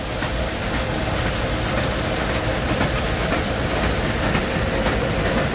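A running combine harvester makes a steady, loud, broadband roar and rumble inside the cab, with no break across the whole stretch.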